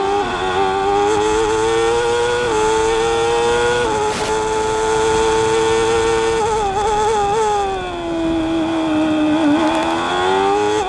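Formula 1 cars at the 1994 British Grand Prix, a loud onboard engine screaming at high revs with quick pitch drops as it downshifts for the Priory corners, then climbing again, continuous and close.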